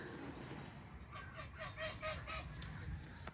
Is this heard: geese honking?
yes